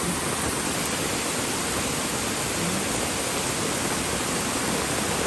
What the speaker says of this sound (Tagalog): makikita yung bilis ng pagragasaan ng tubig